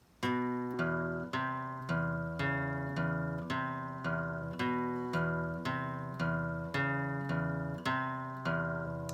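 Low guitar notes of a riff plucked one at a time on the low strings in a steady rhythm, climbing and descending, each note ringing briefly, close and clear with no talking.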